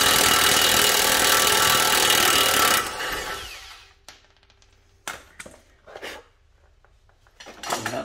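A tool works on a 22 mm tie rod fitting on a Nissan Pathfinder, giving a loud steady whirring grind for about three seconds, then fading into a few sparse metallic clicks and knocks.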